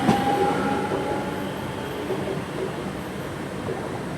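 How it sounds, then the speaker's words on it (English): A ScotRail class 385 electric train pulls out of Stirling station, a loud, steady rumble of wheels and motors close by with a brief squeal at the start. "departing out is 385014, which is on the 1741 ScotRail service heading to Edinburgh Waverley"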